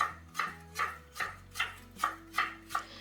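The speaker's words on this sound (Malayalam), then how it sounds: "അപ്പോൾ കട്ട് ചെയ്യുമ്പോൾ നമ്മൾ നീളത്തിലാണ് കട്ട് ചെയ്യുന്നത്" A knife cutting a vegetable lengthwise on a board, about eight evenly spaced crisp chops in a steady rhythm, close and fairly quiet.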